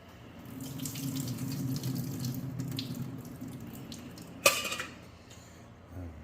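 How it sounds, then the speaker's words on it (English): Cold tap water runs into a kitchen sink to rinse boiled salted fish. The steady stream splashes for about four seconds, then comes a sharp clatter as it stops. "quick rinse with some cold water"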